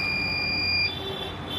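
A wet grinder's timer alarm gives a steady, shrill electronic beep that holds, then drops to a fainter tone partway through, close and alone.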